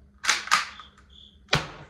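CO2-powered air gun firing pepper rounds indoors, three sharp pops, two close together then one after a pause, with faint chirps between.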